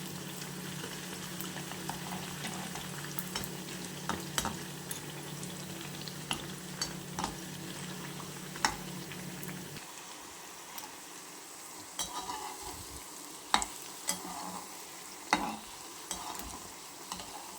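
Puris deep-frying in oil for a fasting-day meal, a continuous bubbling sizzle punctuated by frequent clicks and clinks of a utensil against the pan, quieter in the second half, with no voices.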